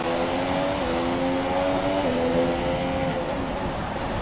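A Formula 1 car engine in the F1 2017 game at Singapore, held at high revs without shifting, a steady loud droning whine that wavers slightly in pitch throughout.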